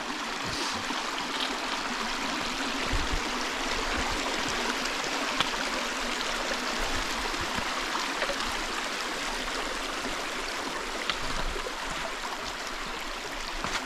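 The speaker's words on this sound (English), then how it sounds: "Cross this stream here." A stream on the Sheltowee Trace hiking trail rushes and trickles steadily, a continuous close wash of water with small splashes and no talking.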